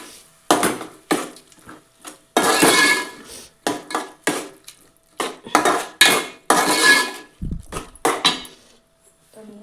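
Metal spoon scraping and clanking in a pot while egg biryani masala with curd is stirred, repeated bursts of stirring with short pauses and a few low knocks, close and fairly loud.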